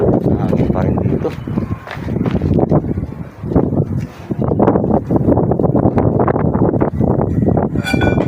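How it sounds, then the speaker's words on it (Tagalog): Wind gusts buffet the microphone on a rooftop during roof flashing work, a loud, rough rush that rises and dips throughout while people talk over it. "Hangin pa rin dito."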